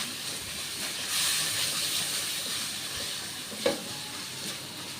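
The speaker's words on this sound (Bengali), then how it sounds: "হলুদ গুঁড়ো দিয়ে দিলাম এখন এটা ভালো করে খুব ভালো করে আমি ভাজে নিই" Cumin and turmeric powder frying in oil over low-medium heat for a dried fish curry, a continuous hissing sizzle that swells briefly and ends with a single crackle.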